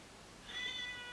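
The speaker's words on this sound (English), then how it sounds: "sorry, that's my cat clock" A cat-shaped novelty clock gives a short electronic meow, fairly faint over a steady room hiss with no talking.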